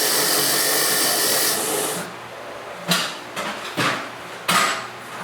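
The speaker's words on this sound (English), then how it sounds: "Run it round on the wire wheel." A wire wheel scours a Suzuki GSX-R1000 motorcycle part, giving a steady, loud abrasive whine for about two seconds before the motor winds down, followed by a few sharp metallic knocks.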